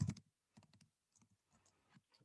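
Typing on a computer keyboard: bursts of close, crisp key clicks in uneven clusters with short pauses between them, alone in a quiet room.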